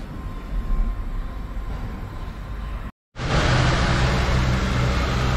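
A surplus replacement engine fitted in place of an overhaul starts after a brief cutout and runs with a loud, rough, steady rumble close by.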